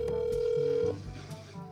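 A phone rings during a call, a loud steady electronic tone that cuts off partway, followed by quieter background noise and a faint voice.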